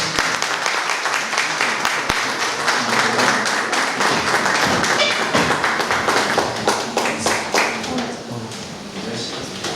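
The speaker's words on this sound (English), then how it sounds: "Let's give them a huge round of applause." A school audience applauds a PowerPoint competition winner with dense, loud clapping and some tapping, fading slightly toward the end, with voices mixed in.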